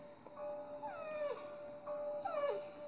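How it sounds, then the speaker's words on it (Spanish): Elvis the dog from the video game Is it Love? Daryl, giving two drawn-out, falling whining yelps about a second apart, fairly faint above a quiet backdrop of soft music. "Elvis vuelve ladrando a mis pies"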